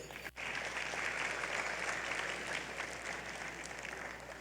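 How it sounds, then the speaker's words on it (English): A gala audience at the IMEC event applauds the diplomatic team, a fairly distant, continuous wash of clapping that holds steady for a few seconds with no speech over it. "let's have a big round of applause for our great diplomatic team today"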